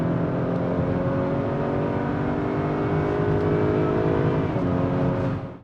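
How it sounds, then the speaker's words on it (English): A 2020 Acura RDX in Sport Plus mode accelerates hard in fourth gear toward the rev limiter, its engine note rising steadily and loud from inside the cabin for several seconds before easing off, with no talking. "It's gonna upshift when you hit the rev limiter."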